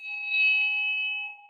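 A single bell rings with a clear sustained metallic tone, struck once and left to decay, bright overtones ringing close and alone.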